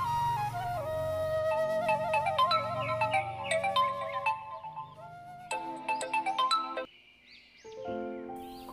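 A melodic phone ringtone for an incoming call plays loudly on its own, a bright chiming tune of rising and falling electronic notes that shifts pattern partway through.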